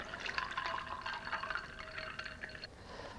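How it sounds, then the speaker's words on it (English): Cold water poured over ice cubes in a container gives a steady, bright trickling fill with small clinks and drips, close and moderately quiet, tapering off near the end. "Get some ice cubes, add cold water over."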